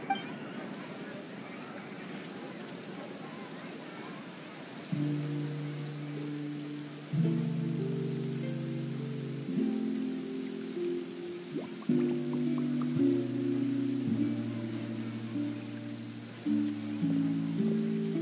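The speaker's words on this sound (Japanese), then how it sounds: "雨が降ってきたみたい。" Soft rain patters faintly in the game Genshin Impact as a gentle steady hiss, while sustained musical tones enter and layer over it.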